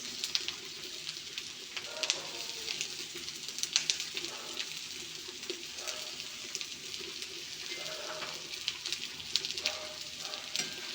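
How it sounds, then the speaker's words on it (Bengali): Chopped onion and green chili fry in hot mustard oil, a steady close sizzle and crackle with scattered pops and occasional stirring. "এটাকে একটু লাল লাল করে ভেজে নিব"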